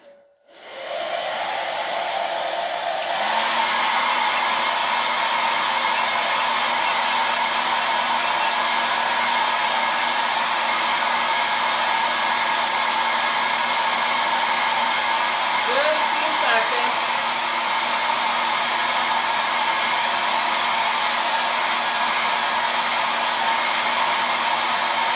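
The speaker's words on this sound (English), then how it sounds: "I'm just going to hit it with a blow dryer." A blow dryer heating ink on a floral pillow, a loud steady whooshing hum that starts abruptly, climbs slightly in pitch after a few seconds, then holds constant close to the mic with no talk.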